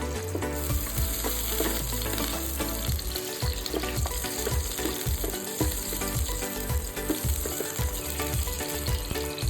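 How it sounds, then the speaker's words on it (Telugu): Green chilli slits fry in hot oil in a pan for a prawn curry, a loud, busy spitting sizzle with bursts of popping and thuds close by, with no one speaking. "ఇప్పుడు ఒక ప్యాన్లో ఆయిల్ తీసుకొని వేడైన తర్వాత పచ్చిమిర్చి చీలికలు వేయాలి"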